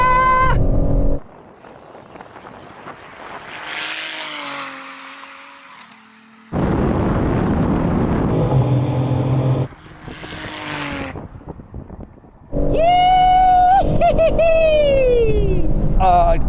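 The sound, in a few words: BMW M3 Competition and Supra MK4 drag racing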